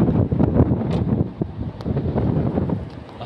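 Gusty wind buffets the microphone outdoors on a hot day, a steady loud rushing rumble with no voices.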